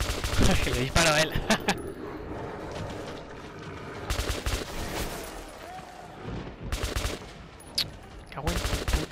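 Clusters of rapid gunfire in the video game Metro 2033 burst out repeatedly, with quieter rumbling and scattered noise between the volleys.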